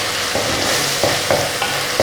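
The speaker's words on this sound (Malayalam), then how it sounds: "നന്നായിട്ട് മിക്സ് ചെയ്യാം" Onions stirred while frying in a pan for chicken thoran, a steady close sizzle with repeated scraping strokes of the spoon against the pan at a loose rhythm.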